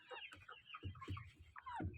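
On a small farm, incubator-hatched chickens give several short, quiet clucks in an uneven rhythm, fairly close by with no talking.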